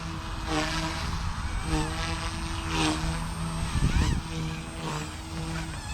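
A small Blade 150 S radio-controlled helicopter flies nearby, its steady rotor drone holding a constant pitch with faint whine above, swelling and easing as it maneuvers, with a brief louder burst near the end.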